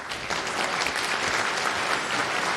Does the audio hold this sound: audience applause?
yes